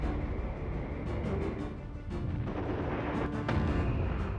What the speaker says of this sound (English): The raiders are barraged by mortar and artillery